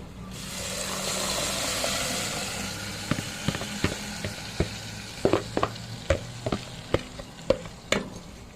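Garlic and paprika sizzling in hot oil, then tomatoes going into the pan, with a steady fry hiss followed by a run of sharp spoon-and-pan clatters and spatters near the mic.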